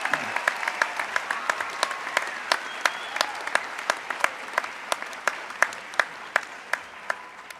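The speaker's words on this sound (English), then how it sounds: "How about another round of applause?" An audience applauds at a George Brown graduation convocation, a fairly quiet, steady wash of clapping in a large hall with distinct individual claps popping out at a regular pace close by.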